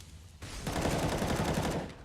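Gunfire in CS:GO on the Inferno map during a FaZe Clan versus Team EnVyUs match, a loud burst of rapid shots starting abruptly and rattling on for over a second.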